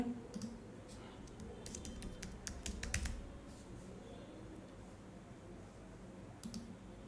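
Soft clicks from a computer keyboard come in quick bursts as a college name is typed into a resume form, then trail into quiet; faint and close.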